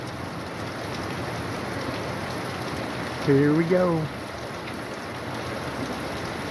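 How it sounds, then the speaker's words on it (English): Steady rain pours down in a continuous, even hiss, with a short spoken phrase rising briefly over it midway. "45 minutes of rain"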